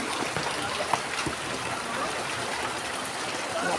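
Steady broadband rush of a flowing stream, close and continuous, with a few faint splashes or drips over the constant wash.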